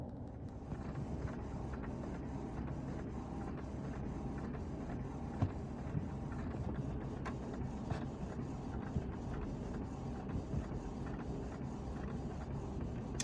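A printer runs steadily while printing CVs, giving a continuous mechanical hum with faint rhythmic clicks of paper feeding, close by and with no talking.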